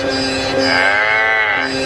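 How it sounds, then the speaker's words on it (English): A cow moos once, loud and close: a single drawn-out, tonal call with a clear rising and falling pitch. "the cow says,"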